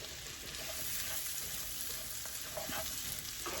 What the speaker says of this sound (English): So now we're going to put in some onions. I quartered and sliced 2 large yellow onions.